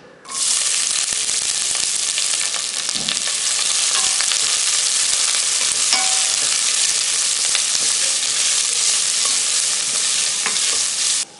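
Sliced onions, cinnamon and bay leaf fry in a tablespoon of hot oil, a loud, continuous close-up sizzle with occasional stirring scrapes that holds steady to the end.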